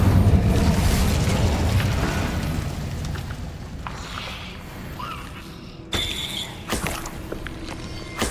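Fire spells cast in the video game Hogwarts Legacy: a dense roaring burst of flame and booming impact that slowly fades, followed by sharper crackling blasts near the end.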